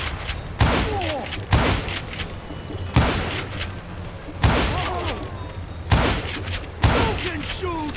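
Six loud, echoing gunshots in the Wild West shooter Call of Juarez: Gunslinger, evenly spaced about a second apart, each one ringing out over a low rumble.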